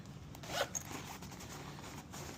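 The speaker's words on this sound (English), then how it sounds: "So this zips." A zipper on a sling bag is pulled closed, one short close rasping zip followed by a quick second tug, with no voices.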